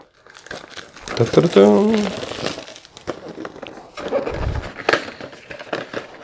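Plastic packaging of a large Juggernaut miniature from the City of Gears board game crinkles and crumples in close bursts, while someone talks over part of the unwrapping.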